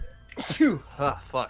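A single short sneeze bursts out at close range, followed right away by a man muttering a few words.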